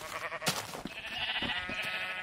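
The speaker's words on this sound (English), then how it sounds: "Two more sheep have escaped." Sheep bleating in a Minecraft-style block-building video game: a sharp click comes first, then one drawn-out, wavering bleat rings out clearly near the listener, with no voices.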